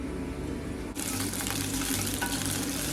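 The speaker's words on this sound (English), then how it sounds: "Something magical about the sound of frying," Diced chicken breast and chorizo sizzle and spit in a hot pan, the frying suddenly jumping louder and bright as more goes in, then crackling steadily up close.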